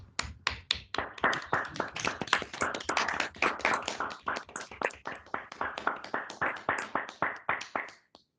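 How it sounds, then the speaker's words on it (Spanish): Listeners applaud after a lecture on logic, topology and category theory, a sparse group of close, sharp individual claps in irregular rhythm that trail off near the end. "Un aplauso por tu charla"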